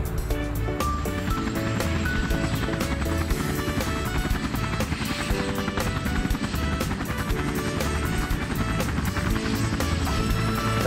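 A steady, dense cartoon helicopter drone with layered engine and rotor noise, loud and continuous throughout, with music-like tones mixed in.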